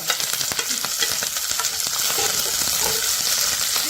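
Chillies, chopped onion and curry leaves frying in a pan, a loud continuous hiss and sizzle with crackling bursts and occasional stirring scrapes.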